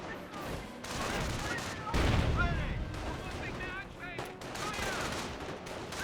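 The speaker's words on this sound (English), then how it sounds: "Taking rifle fire." Rifle fire crackles through a Company of Heroes battle, repeated sharp shots and bursts layered over distant explosions and rumbling combat, with chattering voices under the gunfire.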